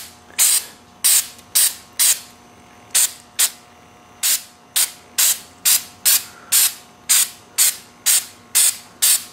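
An aerosol can sprays paint onto a Toyota Tercel in about a dozen short, sharp hissing bursts with brief gaps between them, close and loud.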